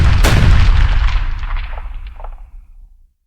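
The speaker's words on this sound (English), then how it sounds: "half the group and the villagers get blown up by the explosion" A single heavy blast from a Minecraft-style BFDI animation booms loudly up front, then rolls out into a long rumbling decay with scattered crackling debris that fades to silence after about three seconds.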